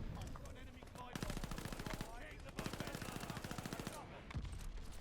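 Bursts of rapid automatic fire from the RA225 submachine gun in Call of Duty: Vanguard, two long sustained volleys of close, loud shots separated by short pauses, with game ambience between them.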